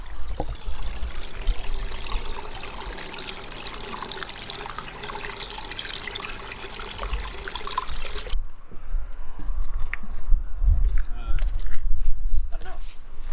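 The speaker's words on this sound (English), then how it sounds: "Waterfall, creek dribbling down." Creek water trickles and dribbles down beside a waterfall on a mountain hike in Washington State, a steady broad rush that drops away partway through, leaving quieter splashing and close rustles.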